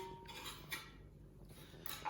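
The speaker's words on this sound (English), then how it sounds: "sprinkle on the fresh coriander and just stir it through" Metal spoon clinking against a pot while stirring fresh coriander through a chicken and spinach curry, a few light scrapes and taps with quiet gaps, ending in a sharper clink.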